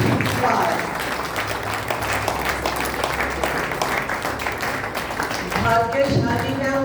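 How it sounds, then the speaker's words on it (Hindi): Loud, dense applause from an assembled audience greets children at an Arya Samaj Shravani Parv gathering, steady throughout with voices mixed in near the end. "पहले एक बार जोरदार तालियों से बच्चों का अभिवादन"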